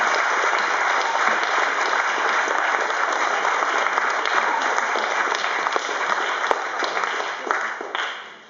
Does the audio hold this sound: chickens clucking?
no